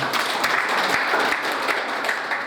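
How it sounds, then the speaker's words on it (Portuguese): A crowd clapping steadily, dense and sustained applause from a room full of people, fairly loud throughout. "Mais uma salva de palmas."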